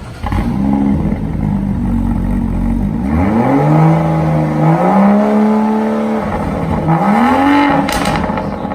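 A BMW 435i with resonator and muffler delete and a custom wide pipe revs hard and close, its exhaust rising and falling in several loud sweeping pulls with a raspy, droning tone.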